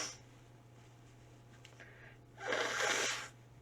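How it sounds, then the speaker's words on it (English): A person blows their nose into a tissue right beside a microphone: a faint sniff early on, then one loud, breathy, close blast lasting about a second against a quiet room hum. "I hate blowing my nose, but in a microphone"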